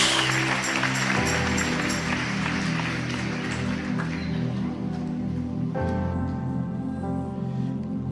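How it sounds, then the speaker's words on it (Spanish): A church congregation claps loudly and continuously for several seconds during a worship service, steady dense applause over sustained organ or keyboard chords. "Dale un aplauso fuerte al Señor."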